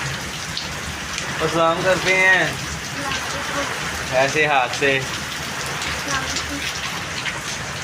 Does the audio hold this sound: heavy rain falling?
yes